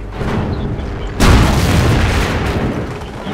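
In a Company of Heroes battle, a loud booming blast erupts after a stretch of rumbling combat, followed by a lingering roar and scattered crackling gunfire and distant pops.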